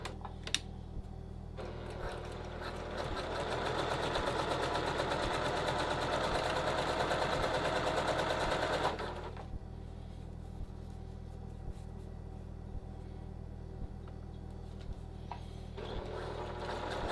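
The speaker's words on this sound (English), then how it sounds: "we're sewing this one 1/4 inch away from the edge" Sewing machine stitching a trouser welt a quarter inch from the edge: a rapid steady mechanical whir that runs in one burst of several seconds, then quieter motor hum and ticking, close up.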